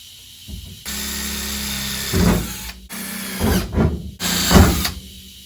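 A power drill whirs steadily in bursts, with several louder grinding pushes as the bit bites into the metal hood of a 1968/69 Ford Fairlane/Torino, close and loud with no talking.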